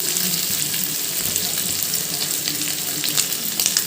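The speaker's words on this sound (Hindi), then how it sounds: "इसमें एंट्री भी कर रहा हूँ चिकन के पीसेस को" Chicken pieces fry in hot oil, giving a loud, steady sizzle with crackling spatter and a few faint clinks throughout.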